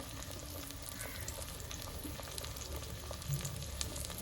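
Tomato and spices fry with browned onions in a pan for a prawn curry, making a soft, even sizzle with light stirring scrapes and small pops.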